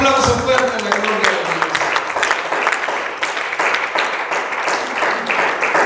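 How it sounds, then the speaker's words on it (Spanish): Dense, steady applause fills a church preaching service, crowd clapping sustained at a constant loud level for several seconds with some voices mixed in near the start. "Un aplauso fuerte a la gloria"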